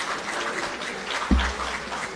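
Audience applause for award winners at a national science and innovation medal ceremony in Jamaica, a continuous wash of clapping from a seated crowd, broken by one brief low thump partway through.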